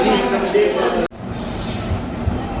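The Mandovi Express arriving at a crowded railway platform, a broad rumbling roar with a brief dropout, then softer rolling rail noise and a faint high squeal under background voices.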